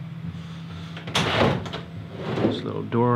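A fiberglass-type door on the upfit body of a 2018 RAM Promaster 3500 van slides and thuds shut nearby, followed by a second shorter knock, with a person talking around it.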